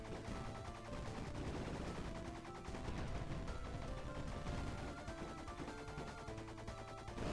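Dual pistols fire continuously in a video game, a dense, steady stream of rapid gunshots layered over busy game sound effects and music, loud and unbroken throughout.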